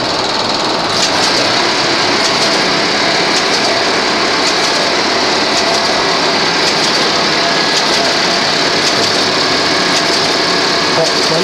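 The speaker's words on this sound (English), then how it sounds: "The motor will be running and the clutch will drop in. Then you'll see the various carry mechanisms happening." A Bletchley Park-era electromechanical computing machine runs steadily on its motor, a continuous loud whirring and clattering hum with faint rhythmic clicks of the clutch and carry mechanisms throughout.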